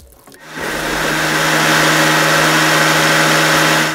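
A blender whirs loudly and steadily for several seconds, spinning up quickly and then holding an even roar as it mixes green herb oil with a splash of cooking water.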